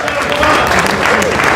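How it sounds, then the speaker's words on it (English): Applause rises from the audience at a startup open mic night, a dense, loud wash of clapping mixed with crowd murmur and a voice talking over it. "Okay, hold your applause."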